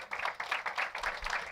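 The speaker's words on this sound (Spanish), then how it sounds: "¿Cuántos pueden dar un aplauso al Señor?" Church congregation applauding during a sermon, producing a steady wash of many hands clapping close by, fairly loud and continuous over a short stretch.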